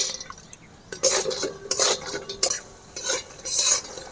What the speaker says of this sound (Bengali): বাদাম ভাজা হয়ে গেছে এবার আমি তুলে নেব